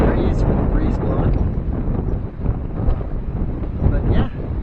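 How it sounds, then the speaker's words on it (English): Strong wind gusts across an empty beach on a chilly day, buffeting the microphone in loud, uneven rumbling bursts, with a voice briefly audible under the roar. "it's kind of windy out here"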